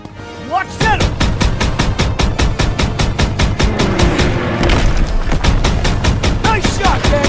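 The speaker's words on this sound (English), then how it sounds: "Stuka's attacking our position!" Call of Duty WW2 battlefield under Stuka air attack, rapid machine-gun fire pounding in a fast regular rhythm with heavy booming blasts mixed in, loud and close, with voices shouting briefly over the din.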